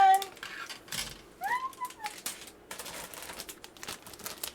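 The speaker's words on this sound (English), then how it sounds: "I apologize for the crinkly plastic noise" Close crinkling and rustling of plastic packaging from a Gundam model kit in irregular bursts, with a brief high squeak of handling mixed in.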